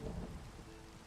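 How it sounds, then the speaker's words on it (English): Thunderstorm in a mining video game, a faint low rumble of rain and distant thunder washing evenly through a brief moment, with no voices. "Uh-oh, thunderstorm."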